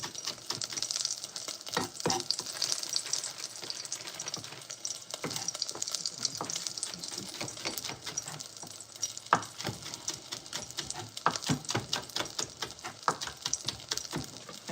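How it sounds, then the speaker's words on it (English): A knife chops onions for a braise, making quick, irregular, fairly faint taps against a board over a constant background hiss. "I'm just gonna chop up some onions for the braise."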